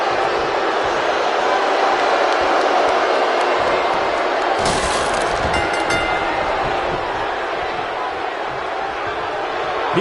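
A packed arena crowd in the wrestling video game WWE 2K19 keeps up a steady, loud roar throughout, with a sharp slam-like impact and a brief swell of noise near the middle.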